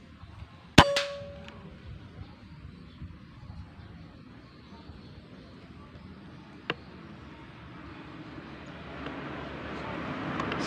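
A single sharp air rifle shot (Jawara Mouser OD 32) with a ringing metallic clang on impact, followed by quieter outdoor noise, a faint later click, and rising wind.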